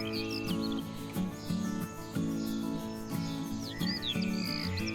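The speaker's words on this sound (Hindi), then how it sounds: "मधुर आवाज़ चिड़ियों की" Several birds sing and chirp in a forest by the Khavane backwaters in Konkan, bright repeated calls over a steady drone of insects, fairly close with no talking.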